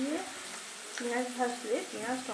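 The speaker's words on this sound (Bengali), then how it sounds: "পেঁয়াজ টমেটো একসাথেই ভেজে নিলাম" Onion and tomato fry together in a pan with a soft, steady sizzle. A voice-like tonal sound rises and falls over it at moderate loudness.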